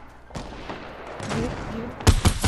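Gunfire in a first-person shooter video game, with two sharp, loud shots close together near the end after a stretch of quieter game noise.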